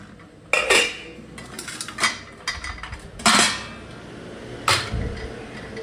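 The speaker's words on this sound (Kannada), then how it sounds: "ಇಡ್ಲಿ ಮಾಡ್ಕೊಳಕ್ಕೆ ಇಡ್ಲಿ ಸ್ಟ್ಯಾಂಡ್ ತೊಗೊಂಡಿದ್ದೀನಿ." Metal idli stand plates handled in a home kitchen: several sharp clattering clanks and scrapes of steel plates knocking together, close and fairly loud, with quieter handling between bursts.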